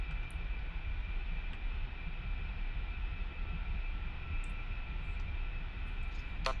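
An A-10 jet taxiing in the DCS World flight simulator gives a steady, even engine whine and rumble that holds constant throughout, with no voices.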